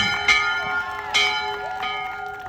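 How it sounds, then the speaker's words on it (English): A bell rings out at a Class of 2023 graduation celebration, with three sharp metallic strikes about a second apart, each leaving a sustained shimmering ring that overlaps the next, loud and close with crowd murmur beneath. "Jose, ring that bell!"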